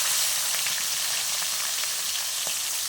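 Fish frying in very hot cooking oil, a steady, loud, dense crackling sizzle with scattered sharper pops, close up and continuous with no talking.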